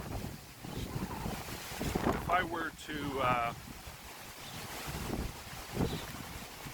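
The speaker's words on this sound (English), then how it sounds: "man, does it ever get windy, eh?" Strong wind gusts buffet the microphone in loud rumbling bursts, with someone speaking briefly amid the blustery roar.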